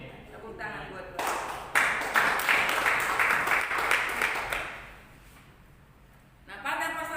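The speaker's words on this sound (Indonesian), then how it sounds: "Tepuk tangan buat Tuhan." A church congregation claps during a Sunday sermon, a burst of many hands lasting several seconds that swells, then tapers off before the preacher's voice returns.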